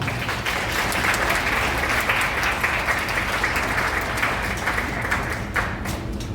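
Wedding guests applaud at a ceremony in a wedding hall, a loud, dense, continuous burst of clapping filling the room for several seconds.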